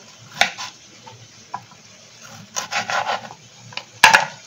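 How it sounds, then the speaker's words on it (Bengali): A knife cuts tomatoes into large pieces on a wooden board for a dhaba-style kadai chicken: scattered, uneven chopping strikes and rasping scrapes, clustered in short bursts, close and fairly crisp. "টমেটোটাও আমি বড় বড় করে কেটে নিচ্ছি যেরকম"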